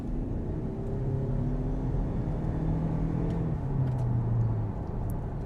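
A 2025 Toyota Camry XSE AWD pulling away and gaining speed, a low engine rumble and rising drone heard from inside the cabin, steady and moderately loud with no talking.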